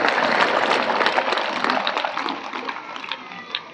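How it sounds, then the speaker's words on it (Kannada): Audience applause welcomes everyone at a religious discourse gathering: a dense wash of many hands clapping, loud at first, then thinning out and fading over a few seconds. "ಮತ್ತೊಮ್ಮೆ ಜೋರಾದ ಚಪ್ಪಾಳೆಯೊಂದಿಗೆ ಎಲ್ಲರನ್ನು ಸ್ವಾಗತ ಮಾಡೋಣ"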